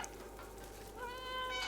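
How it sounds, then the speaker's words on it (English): A cat character meows in a video game, one short tonal meow rising near the end over a steady hum and soft background hiss, fairly quiet. "There's a meow button."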